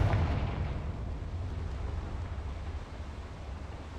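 A Confringo spell explosion in the game Hogwarts Legacy: a deep blast at the start that fades into a long rumbling tail, moderately loud.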